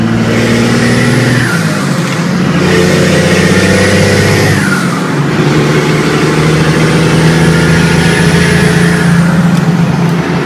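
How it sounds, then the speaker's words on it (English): A 6-speed Cummins diesel truck on huge tires revs loudly and steadily, its engine pitch climbing and dropping as it shifts through gears during a drive, with no talk over it. "I'm going to slip the throttle, fifth gear."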